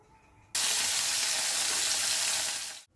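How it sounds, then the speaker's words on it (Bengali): Fish frying in hot oil, a loud, steady sizzle that bursts in suddenly after a quiet start and holds strong for about two seconds before cutting off. "মাছটা আগে আমি তেলের মধ্যে দিয়ে ভেজে নিই"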